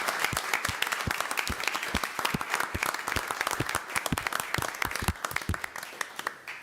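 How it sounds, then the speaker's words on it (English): A modest audience claps at a Macomb city council meeting, with distinct, crisp individual claps in a steady patter that thins slightly toward the end. "So can we give you another round of applause?"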